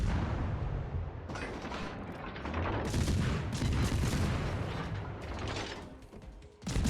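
Naval guns fire in a warship video game, with loud rolling salvos and mechanical clanking layered over a steady low rumble, in continuous dense bursts.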